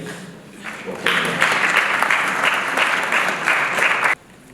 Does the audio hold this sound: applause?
yes